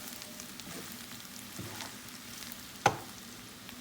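Liver sizzles as it fries in a covered pot on the stove, a quiet, steady crackle broken by one sharp click near the end.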